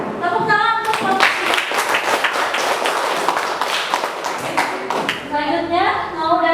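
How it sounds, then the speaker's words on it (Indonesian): Classroom applause for a student group after an accounting and finance presentation: dense, close clapping from many hands runs throughout, with children's voices talking over it. "Tepuk tangan untuk kelompok."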